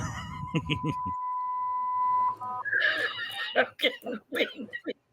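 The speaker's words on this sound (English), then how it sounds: "there's that ringing again." A steady high electronic tone rings for about a second and a half, then breaks into short warbling beeps, with talking and chuckling around it.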